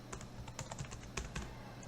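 Someone types a command on a computer keyboard during a Moodle installation, a quick irregular run of soft, close key clicks with small pauses, quiet and alone.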